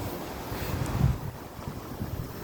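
Strong wind blows steadily across coastal rocks on Namhae's shore at sunset, a constant roaring rush with buffeting against the microphone and no voices.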